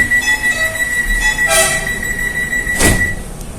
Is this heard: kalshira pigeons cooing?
no